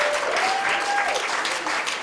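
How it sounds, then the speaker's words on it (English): Congregation applause for a reverend's birthday at a church-like hall, a loud continuous wash of clapping throughout, with a faint thin tone running under it. "Let's put our hands together and give him a real birthday clap."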